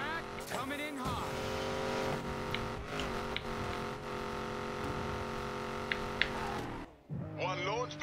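A $2 million hypercar engine roars steadily at full throttle in Need for Speed Payback, a sustained high-revving drone with a brief tire screech near the start, under talking voices, before the tone drops and shifts at the end.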